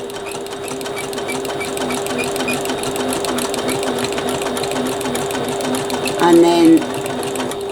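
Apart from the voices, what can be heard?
sewing machine stitching a bag seam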